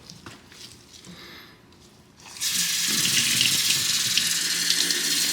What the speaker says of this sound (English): the way to rinse it is to rinse it from the inside because it's a clean side and we want to force the water out